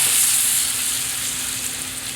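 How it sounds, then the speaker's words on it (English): Agnolotti filled with butternut squash hit a pan of sage brown butter sauce with a loud, steady sizzle and hiss, close and continuous, softening slightly as it goes on, with no talking. "I am back with my agnolotti. I'm going to add those to my sauce"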